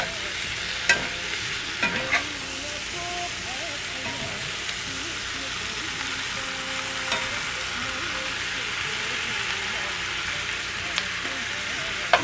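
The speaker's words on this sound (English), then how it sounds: "Now I'm going to go ahead and add the potatoes. And the tomatoes. Give this another stir." Potatoes and tomatoes being stirred in a hot frying pan for a Nepali potato curry, with a steady sizzle and occasional scraping clinks of the spoon throughout, fairly close and without talk.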